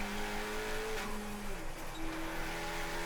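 Race cars on the track at Summit Point, including a 96 Miata, whine past at a distance with engine tones rising and falling as they climb a hill, fairly faint and continuous.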